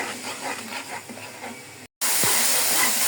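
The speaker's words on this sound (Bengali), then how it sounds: "এখন ভালোভাবে কষিয়ে নেব মশলাগুলোকে" Chili and cumin powder sauté in a hot pan for a tengra fish and tomato curry, giving a steady close sizzling hiss that grows louder after a brief cut.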